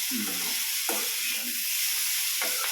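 Tomatoes and dried red chillies frying in a pan, a steady bright sizzle with a few sharper crackles and stirring scrapes, close and continuous without talk.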